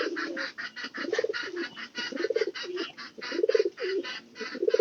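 Pigeons feeding on maize coo in close, rhythmic, throaty rolling phrases that rise and fall every second or so, loud and near with a soft background hiss.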